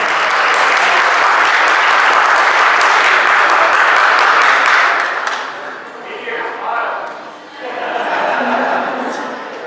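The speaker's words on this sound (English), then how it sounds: "Big round of applause for their beautiful life going forward." Loud, full applause from wedding guests at a ceremony in Austin, Texas, for the couple, sustained for several seconds before cutting off as an officiant resumes speaking.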